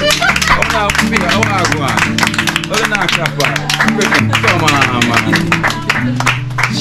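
Rapid hand claps ring out to cheer a girl going back to school, a close, continuous clatter running under people talking the whole time.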